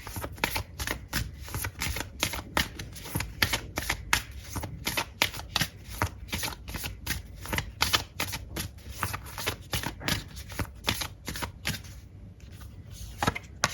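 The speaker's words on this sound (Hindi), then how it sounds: "तो अगर आप शफलिंग को स्किप करना चाहें तो आप कर सकते हैं।" Tarot cards are shuffled by hand up close, producing a rapid series of crisp riffling snaps and soft slaps in an irregular rhythm for over ten seconds, fading at the end, with no talk.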